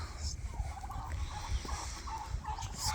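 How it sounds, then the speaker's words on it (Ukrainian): Young turkeys gobble and chirp in a poultry house, a loose chorus of short, warbling calls repeating at close range over a rumbling low background. "Це все молоденькі індички"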